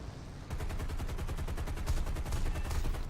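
Rapid aircraft cannon fire rattles in a continuous burst after a brief quieter moment, dense repeated shots under a low engine drone, in War Thunder.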